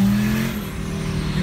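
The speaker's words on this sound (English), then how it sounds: "Sounds like an old Audi Quattro, which is nice." An old five-cylinder Audi Quattro engine hums loudly and steadily with a droning tone that dips slightly midway, with no voices.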